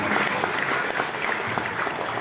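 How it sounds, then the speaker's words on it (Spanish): An audience at a tribute event in Chimbote gives warm applause for cellist Sebastián Azaña, steady dense clapping throughout with faint crowd murmur underneath. "Fuertes los aplausos a ver para motivar a Sebastián Azaña"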